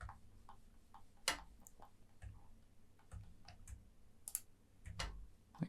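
A computer mouse clicks on a desk while corners of a 3D scan are selected in Blender: sharp, close, sparse clicks, some in quick pairs, spread irregularly over a quiet room with no talking.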